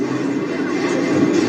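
A train passes during an earthquake, heard as a loud, steady, close rumble with continuous low grinding throughout.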